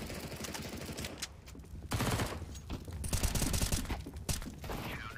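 Rapid automatic gunfire in a shooting video game, dense bursts and sustained firing growing louder and heavier in the second half, close and loud.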